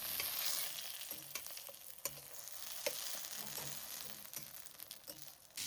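Eggplant slices fry and sizzle in a pan, a constant hissing crackle with intermittent clicks and scrapes as the slices are moved and turned, close and fairly quiet.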